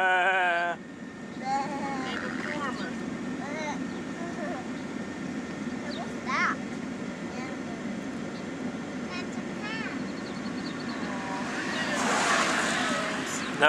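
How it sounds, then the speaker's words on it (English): Several sheep bleat at a distance on an Amish farm in Sullivan, Ohio, over a steady low rumble of a moving vehicle, with voices talking intermittently. "Those right there are sheep."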